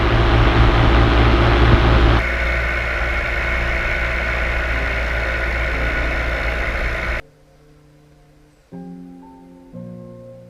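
A paramotor engine runs as the pilot flies low through fog toward the landing zone, a loud steady drone that drops abruptly to quieter, rougher idling bursts near the end.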